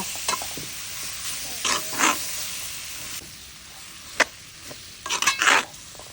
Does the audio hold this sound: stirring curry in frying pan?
yes